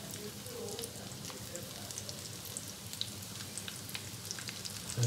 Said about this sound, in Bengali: এগুলো আমি তেলে ছেড়ে দিলাম